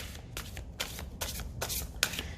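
Tarot cards are shuffled close by in soft, papery riffles, several quick flurries over a couple of seconds, quiet and alone.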